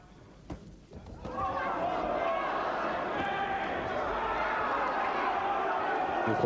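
A boxing crowd roars and cheers steadily behind a fighter during a bout, a dense sustained wash of voices rising after a brief quieter start, with commentary talk over it.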